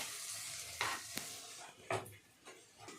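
Spinach and paneer sizzle in a hot pan with tomato puree while a spoon stirs and scrapes through them, the sizzling steady and the stirring strokes arriving at irregular intervals.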